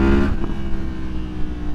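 A 2023 Yamaha MT-10 motorcycle with a decatted Leo Vince exhaust gives a loud, close, throaty engine rumble that swells briefly at the start, then settles into a steady growl.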